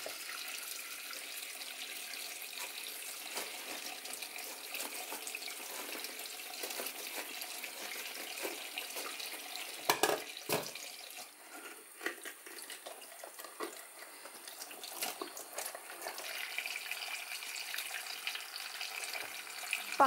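Kitchen tap running while bell peppers are washed under it, a soft steady hiss of water with brief splashes and clunks midway, fairly quiet and with no talk.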